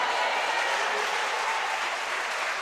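Church congregation applauding Jesus during a sermon on discipleship, a dense, even roar of clapping hands that fills the room throughout.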